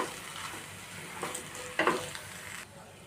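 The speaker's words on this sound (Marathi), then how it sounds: "रेड चिली सॉस एक मोठा चमचा सोया सॉस आणि दोन चमचे टोमॅटो सॉस आता हे सर्व व्यवस्थित मिक्स करून घेऊया" Red chili, soy and tomato sauces being stirred together in a pan for Hakka noodles, a soft sizzle broken by several scraping spoon strokes, one louder clatter near the middle, fairly quiet and close.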